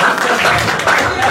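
A church congregation in Rennes claps and cheers, a dense, loud burst of applause filling the whole moment.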